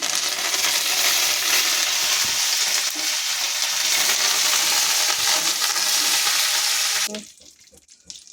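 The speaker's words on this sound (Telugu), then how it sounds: "ఇప్పుడు కరివేపాకుని ఎండుమిరపకాయ వేసుకుందాం" Curry leaves and dried red chillies hit hot oil for a wedding-style coconut and raw mango chutney, giving a loud, close, continuous sizzle for about seven seconds before it cuts off sharply into near quiet.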